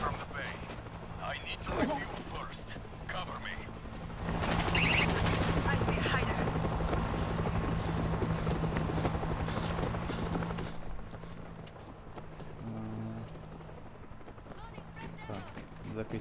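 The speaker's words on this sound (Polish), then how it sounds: "Teraz będziemy tankować helikopter." A helicopter in the video game World War Z Aftermath whirs steadily as gunfire, footsteps and battle noise rise and fall around it, with game voices speaking over the action.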